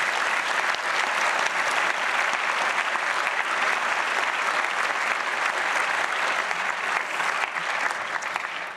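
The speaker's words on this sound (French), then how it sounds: "Je vous propose de l'applaudir chaleureusement." Sustained, dense applause from an audience in a university lecture hall at an academic opening ceremony, even and continuous throughout with no speech over it.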